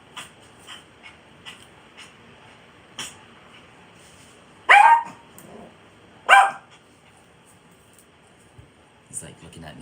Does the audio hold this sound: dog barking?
yes